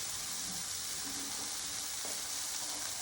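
Shrimp frying in a pan for a cauliflower rice stir fry, a steady, hissing sizzle at close range with faint clinks of stirring, and no talking.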